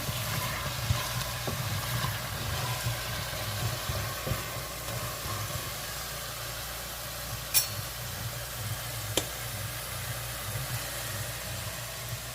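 Cuban oregano and culantro being stirred into a sizzling Guyanese whitebelly shrimp stew, a steady close frying hiss with a low rumble beneath and a couple of faint spoon clinks.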